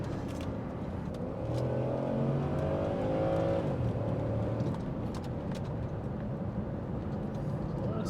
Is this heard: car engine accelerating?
yes